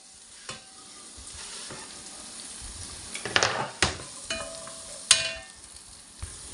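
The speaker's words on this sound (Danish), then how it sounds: "Fedtet, det lader vi blive dernede til at klare løgene med." Onions fry in bacon fat in a pan, hissing steadily. Several clacks of stirring and utensil knocks break through the sizzle at close range.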